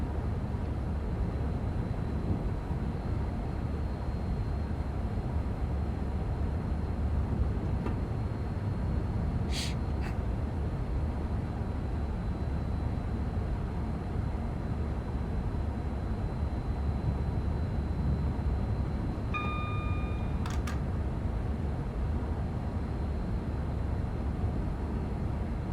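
A Pendolino train runs on the West Coast Main Line in Train Sim World 6, giving a steady low rumble throughout, broken only by two brief high beeps.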